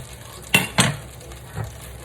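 Butter melts in a hot pan for a Dutch baby, a soft sizzle under two sharp scraping stirs close together, then a fainter third stir.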